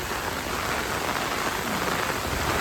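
Heavy rain pours down in a village as a dense, continuous hiss of drops drumming on surfaces, steady and loud throughout with no other sounds standing out.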